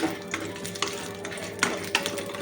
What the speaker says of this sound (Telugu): మిరపకాయలని మిర్చిని బాగా వేయించుకున్నాం